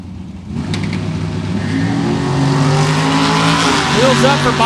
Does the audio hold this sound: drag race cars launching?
yes